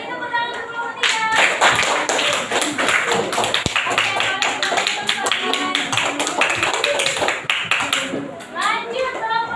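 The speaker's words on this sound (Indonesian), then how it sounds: "Beri tepuk tangan untuk kelompok 3." A classroom of students claps for a student group after its presentation, sustained dense applause from many hands filling the room, with children's voices mixed in.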